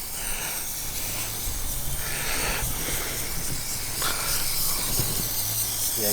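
Loud continuous hiss of a spray gun applying heavy bed liner coating, a broad rushing spray that pulses slightly as it is applied, with a low mechanical hum beneath.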